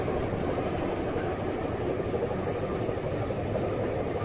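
A railway inspection trolley runs on track at Sangaldan station on the USBRL line, giving a continuous rolling rumble with faint rhythmic clicks throughout and no talk.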